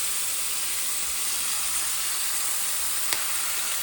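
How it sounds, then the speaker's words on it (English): Pork searing in a heavy-duty cast iron pan, a loud, steady bright sizzle that fills the whole stretch with only a tiny pop near the end. "As you can see, I'm using a heavy-duty cast iron pan to do the searing job."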